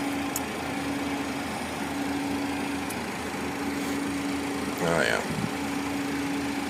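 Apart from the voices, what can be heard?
Cessna Citation Ultra 560 jet engines idling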